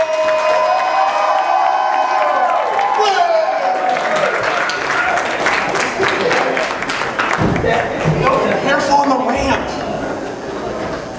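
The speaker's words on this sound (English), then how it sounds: "Start clapping your hands right now for Will Leo." A convention crowd at a stand-up comedy show claps and cheers loudly for a comedian, the applause and whoops swelling into a continuous roar while a voice speaks over it.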